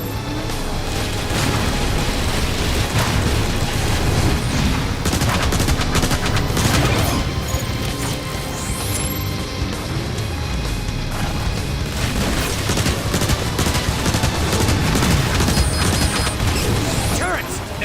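Heavy turret gunfire in the Transformers: War for Cybertron video game, dense bursts of rapid shots and booming impacts crashing almost without pause, loud and close, with shouted voices mixed in.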